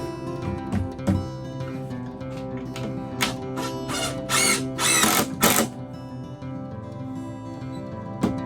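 A power drill drives screws into partition wall blocks in an off-grid pantry build, giving several short whirring bursts of varying length close by, with quieter gaps between them and no talking.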